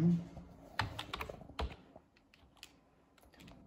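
Typing on a computer keyboard, a quick cluster of sharp clicking keystrokes up front, then lighter scattered taps trailing off, close and moderately quiet.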